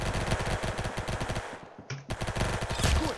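Rapid automatic gunfire in the Roblox Army game, a dense burst of loud shots that cuts out briefly near the middle and then resumes at full intensity.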